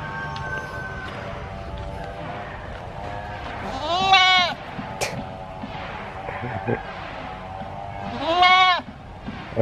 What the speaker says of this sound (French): Et regardez la petite chèvre au calme.